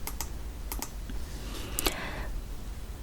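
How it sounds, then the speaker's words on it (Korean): Several crisp computer keyboard key presses, including the left bracket key, tap out singly and in quick pairs, close up in a quiet room. "키보드에서 왼쪽 대괄호를 눌러서 마우스 모양을 좀 더 크게 잡았습니다"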